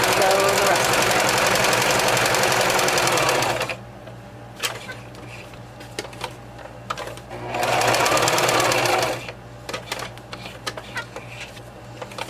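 A sewing machine stitches a mixed media project in two loud, steady bursts of whirring, each a few seconds long, separated by a quieter pause with small handling clicks.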